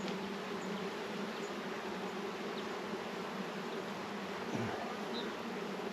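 Honeybees hum steadily around a crowded hive, a dense continuous buzzing close by with occasional individual bees passing near, and no talking.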